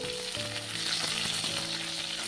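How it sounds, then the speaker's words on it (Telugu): Cut elephant foot yam and okra fry in a pan, a constant close sizzle with a few faint stirring knocks and a low steady hum underneath, no talking. "ఎంతో కాదు, 2 నిమిషాల్లో ఫ్రై అయిపోతాయి."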